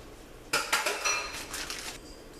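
Ingredients are stirred in a pan for a pulled ribeye steak sandwich, giving a close, short run of metallic scrapes and clinks against the pan with no speech.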